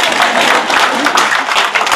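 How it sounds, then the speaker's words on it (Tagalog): Audience applauding at a political speech in the Philippines, a loud, dense burst of clapping from a close crowd that fills the whole moment without pause. "Pwede kayo pumalakpak."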